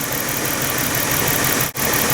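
Lincoln LS engine idling steadily, a continuous mid-pitched hum with a brief dip near the end, no talk.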